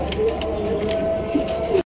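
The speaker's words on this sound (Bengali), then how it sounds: "এখানে রয়েছে একজোড়া পটার কবুতর," A pair of large black magpie pouter pigeons for sale give a low, steady cooing throughout, close by over a faint hum of background noise.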